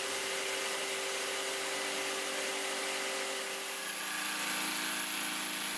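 Bosch jigsaw with a dust extractor connected, cutting wood: a dense, steady whine and rasp with extractor airflow underneath, loud and close, easing slightly in tone toward the end.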